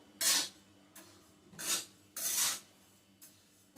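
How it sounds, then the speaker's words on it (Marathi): Rice bhajani flour being dry-roasted in a pan over a very low flame and stirred: several short, scraping rasps of spoon against pan come in bursts separated by quiet gaps, close and moderately loud, with no talking. "अगदी बारीक गॅसवर असे भाजून घ्यायचे."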